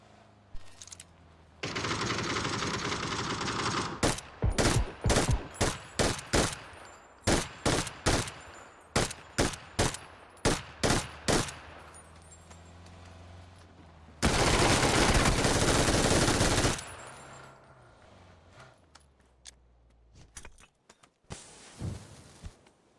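Gunfire in the video game PUBG: many sharp, loud shots in uneven bursts, including rapid clusters and a longer sustained burst, with quieter spells between.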